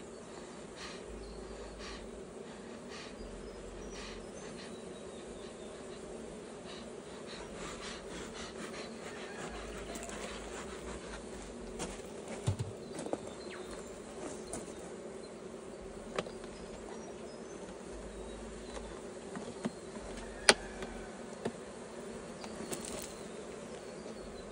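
Honey bees buzzing around a beehive set on a pallet, a steady, dense hum with a few faint clicks and knocks from handling the hive, no voices.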